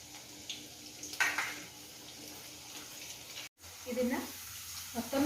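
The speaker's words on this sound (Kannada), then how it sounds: "अभी इसको मैं दोबारा फ्राई कर रही हूँ. अच्छा सा क्रिस्प हो जाएगा ये." French fries tossed in masala are fried in hot oil a second time, giving a steady sizzle and bubbling broken by a brief pause and a few stirring sounds.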